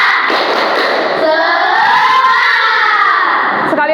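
A class of primary-school children performs a rhythmic clapping chant together, their hand claps and shouted voices filling the room loudly and continuously for the whole stretch.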